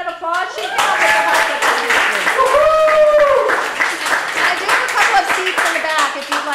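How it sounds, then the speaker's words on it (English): Audience applause for the host Brittany at a historical society meeting in a small room, scattered hand clapping of moderate loudness while several people talk and call out over it. "Can you give her a round of applause?"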